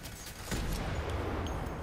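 Sustained gunfire from the first-person shooter F.E.A.R. 3, a dense, rolling volley that swells after a brief quieter lead-in and keeps going steadily to the end at fairly close range.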